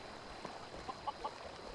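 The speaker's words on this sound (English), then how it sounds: "Careful! Don't run over the chickens!" Chickens in Skyrim let out a few faint, brief clucks, three quick soft calls spaced about a fifth of a second apart over a low background hum.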